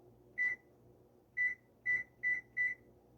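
An oven timer gives five short, high electronic beeps, one alone and then four in quick succession, set while baking burritos in a quiet kitchen.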